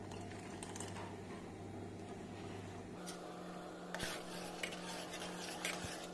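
A pot of milk heating on a gas stove with lemon juice being stirred in, giving a steady close scraping and clinking of a spoon against the pot over a low hum, with a few sharper knocks toward the end.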